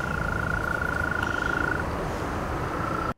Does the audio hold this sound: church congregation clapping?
no